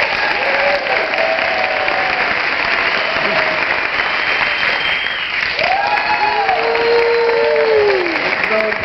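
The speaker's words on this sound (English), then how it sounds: "let's hear the applause" An audience at a national bicycle advocacy summit training session applauds, steady broad clapping throughout with a few voices and whistle-like tones mixed in.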